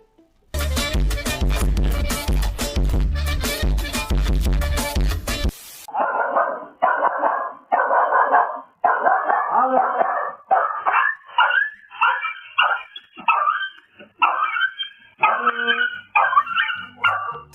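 A dog barks and yips in a quick, uneven run of close, loud calls after a burst of loud music, with short pauses between the barks.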